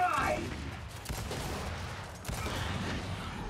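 Gunfire in the video game Gears 5: a sharp burst of shots at the start and another round of fire about two seconds later, loud and close, with a player talking over it.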